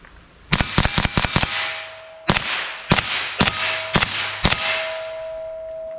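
A .22 LR rifle fires Remington Mini Mag rounds from 14 yards outdoors, with about eight sharp, loud cracks, a quick cluster early and then evenly spaced single shots, each with a short ringing tail.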